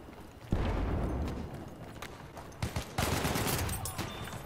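Rapid bursts of gunfire from Battlefield 1 PC multiplayer combat, loud and close, with sharp cracks near the start and a cluster of shots toward the end over constant battlefield noise.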